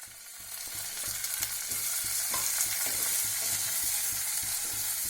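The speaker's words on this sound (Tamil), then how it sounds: "கருவேப்பிலை போட்டு வெங்காயம் போட்டுருங்க." Curry leaves and onions sautéing in a pan for a village-style fish curry, a dense steady sizzle with rhythmic stirring scrapes, close and fairly loud, no voices.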